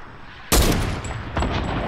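A loud burst of Fortnite gunfire breaks in abruptly after a brief hush, then a second crack follows a moment later. Both ring out over a dense, noisy game background.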